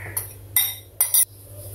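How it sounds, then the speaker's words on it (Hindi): A spatula works through fruit cake batter in a bowl, giving four sharp clinks and scrapes against the bowl with short pauses between them. "स्पैचुला से अच्छी तरह से इसको मिक्स कर लें।"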